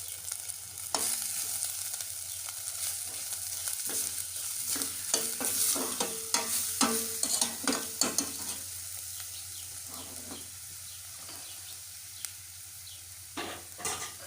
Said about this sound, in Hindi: तो चलें अब हम इसमें जो है ना सबसे पहले अपना चिकन डाल लेते हैं।